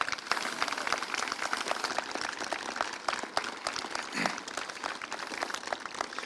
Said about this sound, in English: please celebrate these amazing young men and women behind me with a round of applause